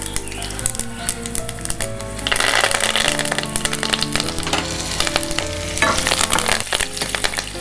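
Curry leaves and green chilies hit hot tempering oil, setting off a loud, dense crackling sizzle that flares up partway through and keeps popping close by.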